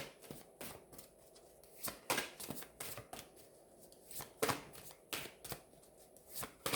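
Tarot cards shuffled by hand in a quiet room, a steady run of crisp riffling bursts and soft slaps coming in quick irregular clusters, close and unaccompanied by talk.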